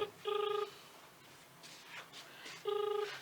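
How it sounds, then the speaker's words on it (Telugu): A telephone emits two bursts of tonal dialing or ringing beeps, each under half a second, separated by about two seconds of quiet room noise with faint movement. "అందశ్రీ సార్ ఫోన్ చేస్తున్నాడు"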